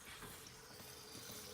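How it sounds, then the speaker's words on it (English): Running water rinses out a bowl of lentils that were soaked overnight, a steady faint splashing flow at a kitchen sink with no one speaking. "First, I'm gonna wash the bowl out."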